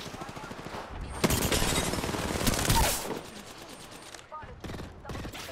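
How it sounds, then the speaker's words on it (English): Rapid automatic gunfire in an Apex Legends ranked match comes as a dense, loud burst of shots followed by scattered, fainter shots further off, with game effects around them. "Getting shot on my side."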